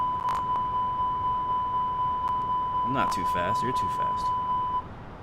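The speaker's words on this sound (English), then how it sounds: "That beep's going to go away here in just a second" A steady cockpit warning beep sounds in the Flybywire A32NX airliner in Microsoft Flight Simulator. The tone holds constant and loud for several seconds, then cuts off, and people talk over it partway through.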